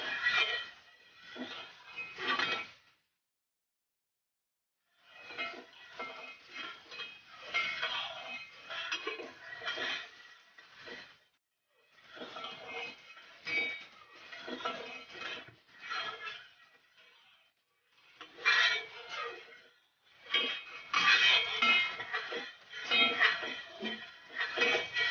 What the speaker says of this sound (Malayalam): ജസ്റ്റ് ഒന്ന് നന്നായിട്ട് ഇളക്കി കൊടുക്കാം.